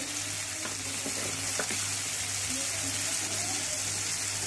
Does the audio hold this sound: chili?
yes